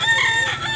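A White Kelso rooster crows close and loud at a chicken sale in Consolacion, North Cebu, one short, strained burst of the call heard alone.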